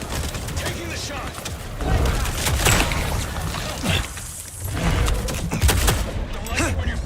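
Gunfire rings out in the Bloodlines 2 combat game, with repeated shots and bursts cracking through a busy mix of effects and game noise across the whole stretch, loud and close.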